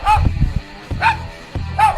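A Staffordshire bull terrier barks three times in a short sharp sequence, close and loud, each bark evenly spaced with a yelping, whiny edge.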